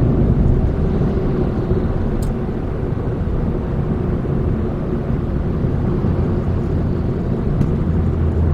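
At night, a manual Chevrolet Aveo (Sonic) rolls through a Korean road construction zone paved with temporary steel plates. Its tires make a loud, steady, low roar much like a distant jet, with no talking.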